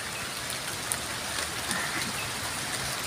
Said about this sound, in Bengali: মধ্যে বৃষ্টিটা পড়ছে, দেখতে খুব ভালো লাগছে